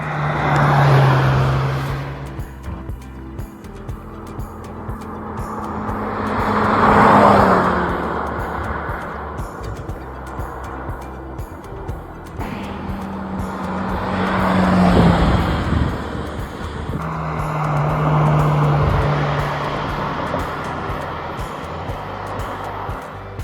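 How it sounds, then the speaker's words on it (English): A Lamborghini Temerario test car, the Huracan successor, drives mountain roads with steep slopes and sharp turns, its engine swelling and fading in repeated passes as it accelerates near and away. "Spy video showing mountain testing of the Lamborghini Huracan Successor, the Temerario, reveals the car handling on steep slopes and sharp turns."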